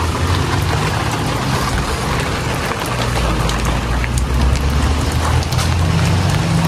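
Heavy rain in Canada ahead of a feared tornado, falling in a steady, dense hiss and patter on surfaces nearby, continuous and loud with no voices.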